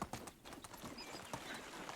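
Hooves of a ridden donkey clip-clop over the ground in Medieval Dynasty, a quick, close, irregular patter of dull knocks with no voices.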